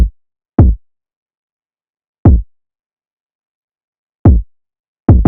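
Deep, booming kick drum hits land alone in a sparse, uneven pattern, each thump short and punchy with silence between.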